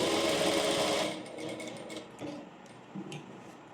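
A sewing machine stitches a V-shaped seam on an A-line frock, running in a fast loud burst for about a second, then stopping and giving a few soft clicks and short mechanical movements.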